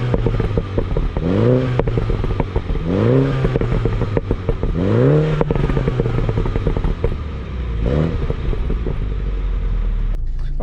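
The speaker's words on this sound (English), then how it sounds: "I'll give you a little outside exhaust clip, hopefully with the pops and burbles included" A Mini Cooper S John Cooper Works, heard from outside, revs repeatedly. Each rise in pitch drops back into popping, burbling exhaust crackle over a loud, close, deep engine rumble.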